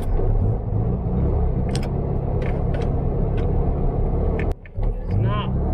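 Engine of a 1974 VW Beetle running continuously in a steady low rumble throughout, with brief clicks and a short dip near the end, no talk.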